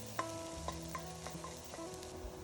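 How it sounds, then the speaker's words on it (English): Chopped ginger and garlic being sautéed in hot oil in a wok, with a low steady sizzle and a few light clinks of a stirring spoon at irregular intervals. "Add chopped ginger and garlic. Saute till it becomes light golden in color."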